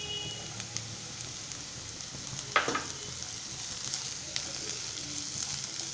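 Chicken fried rice with beans and carrot sizzles quietly in a pan, and one sharp clattering stir stands out, followed by lighter scraping against the steady frying.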